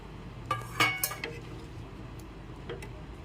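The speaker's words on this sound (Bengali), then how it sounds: "একটু নেড়েচেড়ে মিশিয়ে নিচ্ছি।" Shahi paneer stirred and mixed in a pan, a few light metallic clinks and scrapes of a spoon against the pan, quiet and sparse, followed by one more soft tap.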